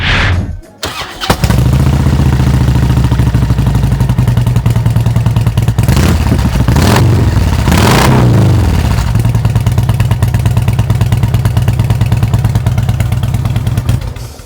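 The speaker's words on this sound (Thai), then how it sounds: "อ่าเรามาลองฟังไลฮาร์ดดูว่าออกเป็นเสียงแบบไหน กับเครื่อง 96 คิว ทวินแคม" A 2007 Harley-Davidson Touring with a 96 cubic inch Twin Cam engine and Rinehart exhaust cranks, fires up loudly and settles into a deep, lumpy idle close by, with a couple of throttle blips partway through.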